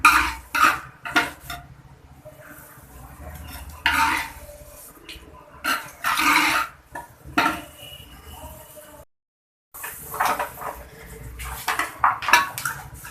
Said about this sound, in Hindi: अब मैं डालूँगी इसमें अपने लहसुन जो बारीक काट के मैंने रखे हुए थे, इसको करना है हल्का सा ब्राउन।